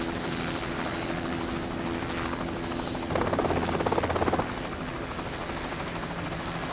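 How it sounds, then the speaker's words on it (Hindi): Loud helicopter rotor noise fills the scene continuously, a steady thumping roar that swells briefly midway. "हेलीकॉप्टर से डर लग रहा है क्या?"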